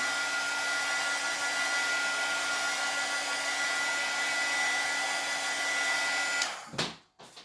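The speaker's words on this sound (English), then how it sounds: "So we'll give this a good dry." A hair dryer blows a steady, loud, close whine while drying a fuzzy felt craft piece, holding constant for about six seconds before cutting off and winding down with a brief stutter.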